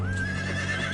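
A Spanish cavalry horse lets out a loud, close, high-pitched whinny that holds steady for about a second.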